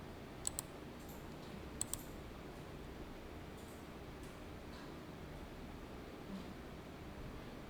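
A computer mouse clicks in a quiet room over soft background hiss, a quick double click early and another double click a little later, faint and close.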